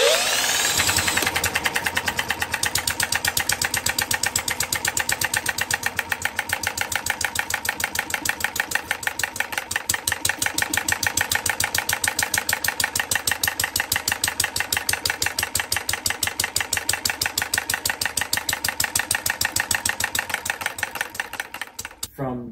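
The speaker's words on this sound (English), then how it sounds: "even if there's only like 2 or 3 of these engines out there" A small working model diesel engine starts, then runs steadily with a rapid, even knocking chug that continues loud and close for about twenty seconds before cutting off abruptly.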